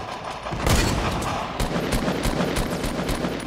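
Rapid gunfire rattles in a Fortnite Battle Royale match, with dense, repeated shots and sharp cracks firing continuously throughout.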